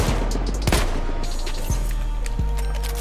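Gunfire in the video game Battlefield 1: a few loud, sharp shots spaced about a second apart, each ending in a booming low tail, with no talk.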